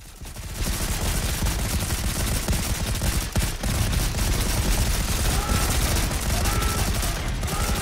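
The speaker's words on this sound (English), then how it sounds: "Let's see how they can handle my turrets now." Mortar turrets firing in the Volcanoids video game, a dense, continuous barrage of loud blasts and explosions that starts abruptly and keeps pounding without a break to the end.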